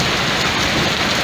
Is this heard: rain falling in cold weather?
yes